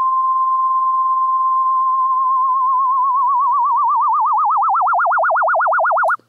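A steady synthesized sine tone from Xfer Serum gains FM vibrato from a slow sine modulator, the pitch wobble starting flat and growing wider and faster before cutting off abruptly; loud, clean and alone.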